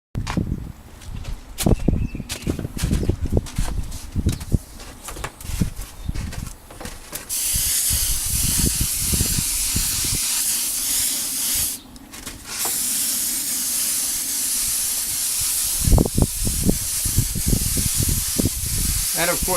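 Aerosol spray cans hiss in long continuous bursts as paint is sprayed onto Honda parts outdoors, alternating with short clatters and handling noises nearby.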